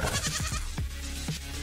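The Alpha Goat in the video game Animal Fight Club bleats about four times in quick succession. Each call is short and falling, with no talk over them.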